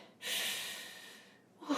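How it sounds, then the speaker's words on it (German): A person snorts and huffs once, a long breathy exhale up close, followed by a short sharp sniff. "Ich schnaufe."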